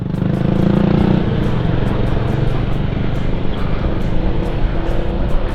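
A motorcycle engine drones loud and close in a steady, continuous rumble with a rough, throbbing texture and no pauses.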